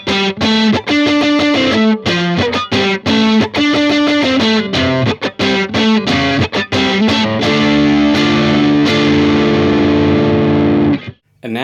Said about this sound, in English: And now on to the neck position, and I'll put on some compression and the OCD.